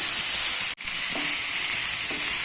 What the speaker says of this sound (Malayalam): ഇനി ഇത് ഈ എണ്ണയിൽ കിടന്നിട്ട് തന്നെ നന്നായിട്ടൊന്ന് ഒരു പകുതി വേവായി വരട്ടെ